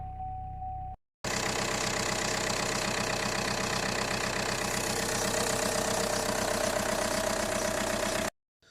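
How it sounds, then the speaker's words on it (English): A Vauxhall Insignia 2.0 CDTi diesel engine runs after a jump start with a faulty alternator, a loud steady idle with rhythmic diesel clatter, following a brief low hum and a short cut of silence. "So here we've just jump started the car"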